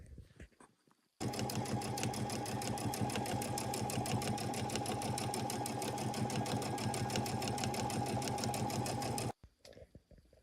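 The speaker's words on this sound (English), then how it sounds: "So I'm just going to do a basic stitch first and get it placed down" An embroidery sewing machine running a basic placement stitch, a loud, fast, even mechanical chatter that starts abruptly after a short quiet lead-in, holds steady for about eight seconds, then stops.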